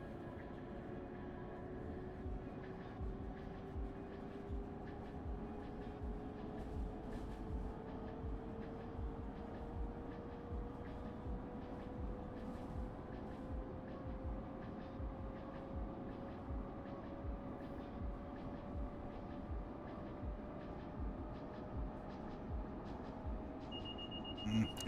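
A locomotive running at full throttle in Train Sim World 5 on the Northeast Corridor, with a steady rumbling engine drone, a slowly rising tonal whine and a rhythmic clatter of wheels over rail joints throughout.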